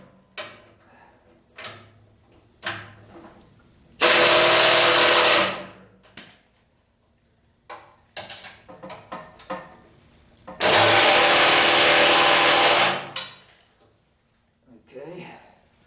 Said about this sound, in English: That one is going into steel, so I'm going to bump up the power of the impact wrench.